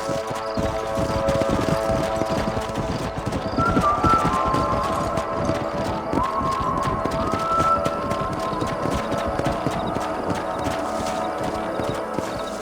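Horses trotting in Red Dead Redemption with steady, overlapping clip-clop hoofbeats, fairly close and continuous, with a faint whinny in the mix.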